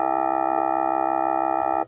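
Game Boy running LSDJ plays its default instrument on note C3, the lowest available C: a single steady, buzzy square-wave tone held for nearly two seconds, then cut off abruptly.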